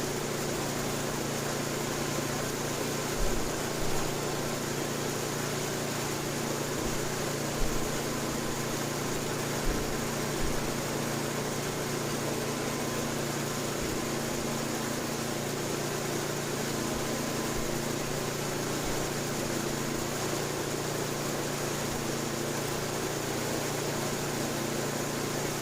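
Engine of an Estate by Murray 8/27 dual-stage snow blower running steadily at a constant idle during governor and carburetor mixture adjustment, a continuous near hum with faint occasional clicks.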